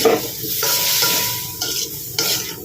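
Chopsuey vegetables with chayote are stirred in a sizzling pan, with loud bursts of scraping and rustling over a steady frying hiss, heard close up with no speech.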